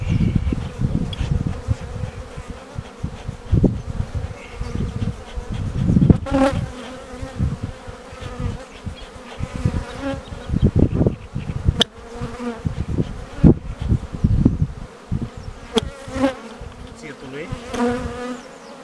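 Honeybees buzzing densely around hive frames at an apiary farm in Botoșani County, Romania, a close, continuous drone with handling knocks and clatter of frames, no talk heard.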